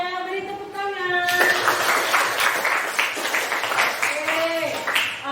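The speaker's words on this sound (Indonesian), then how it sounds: "Silakan duduk Arya, beri tepuk tangan." Classroom clapping for a pupil breaks out after a teacher's spoken line, a burst of many hands from a group of schoolchildren that swells and then thins out, with voices speaking over the start and end.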